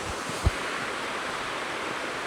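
The third stage of a waterfall on a trek near Ladies Bath Falls at Mount Hotham, Australia, heard as a steady, broad rushing roar of falling water with wind buffeting, one brief low bump.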